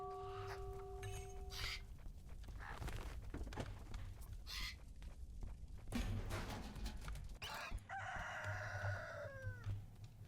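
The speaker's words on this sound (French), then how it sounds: "Oh là, c'est une petite dinde qu'on a eue." A turkey in a Roblox game lets out a string of gobbling fowl calls, several short bursts spaced across a few seconds over faint, steady game background noise.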